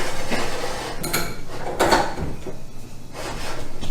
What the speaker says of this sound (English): let's get this canner moved to the center burner